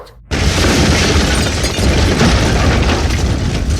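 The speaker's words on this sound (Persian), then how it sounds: "انفجار مخازن LPG در پالایشگاه تهران" After a brief quiet moment, a huge roaring LPG tank explosion at a refinery erupts and keeps rumbling loudly for several seconds.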